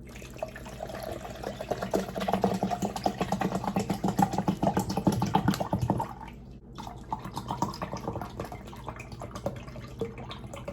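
Water runs steadily into a container up to the 4 cup mark, a splashing, gurgling pour that stops briefly partway, then resumes more softly.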